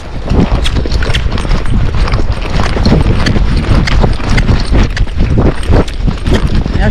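A Tennessee Walking Horse canters on poor, uneven footing, its hooves clip-clopping in a steady, close, loud rhythm with some wind noise across the microphone.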